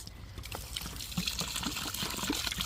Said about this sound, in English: Let's take this water real quick and wash it and let's show them.